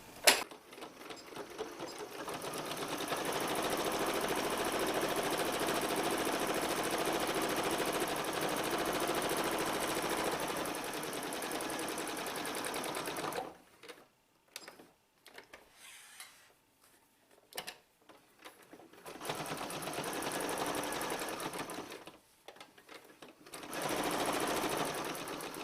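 A sewing machine top-stitches a denim purse made from blue jeans at lengthened stitch length, running steadily and loud for about thirteen seconds, then stopping and restarting in short bursts with pauses.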